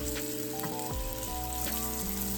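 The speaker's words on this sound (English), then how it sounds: "Now I usually sear this about 5 or so minutes on each side, just till it gets a little bit of a crust." Flour-dredged meat sears in a hot pan, giving a quiet, steady sizzle with faint crackles and no voices.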